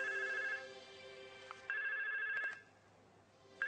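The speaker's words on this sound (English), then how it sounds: "Extension 8007 is ringing and shows the caller ID as 8000." A VoIP phone extension rings on an internal call from another extension, sounding a steady electronic ring tone in bursts with short gaps, clear and alone, with no voices.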